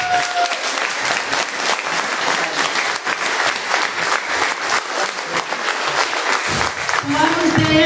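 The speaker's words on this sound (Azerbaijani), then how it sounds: "Bir daha bu məktəbin ulduzlarına, bu məktəbin xürrəli olan şagirdlərimizə sizdən alqışlar istəyir." Sustained audience applause at a school concert for student performers, dense steady clapping from a large crowd throughout, with a faint voice briefly audible near the end.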